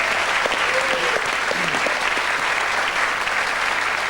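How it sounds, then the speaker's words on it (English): Studio audience applause on a TV football show, a dense sustained clapping from a large crowd, steady and fairly loud throughout, with a faint voice briefly under it. "Let's hear it for Justin Charles and Leon Daphne"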